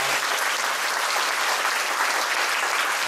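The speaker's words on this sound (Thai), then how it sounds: "งั้นขอเสียงปรบมือ" Applause for a doctor at a Thai holistic health and bone-setting center: dense, steady clapping from a gathered audience fills the whole stretch without a break.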